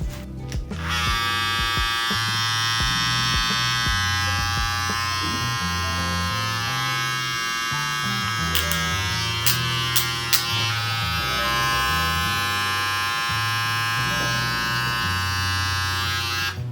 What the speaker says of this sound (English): Let's do a sound test real quick.